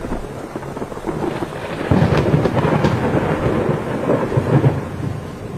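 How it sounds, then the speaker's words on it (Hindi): Thunder rumbles over steady heavy rain in an animated children's story, a loud, continuous wash that swells partway through, with no voices. "ये तुम्हारी पहली बारिश है।"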